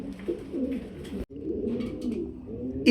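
Pigeons at a breeding farm give low, rolling coos close by, repeating steadily for a few seconds with no talking.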